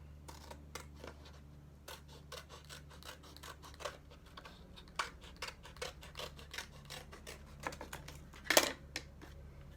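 Scissors cut through construction paper, giving a quiet, irregular series of crisp snips and rustles close by, with one sharper, louder crunch near the end and no talking.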